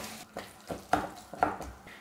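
Cauliflower masala stirred in a pan, a spoon scraping and knocking against the pan in a steady rhythm of about four soft strokes, close up and quiet, with no talking.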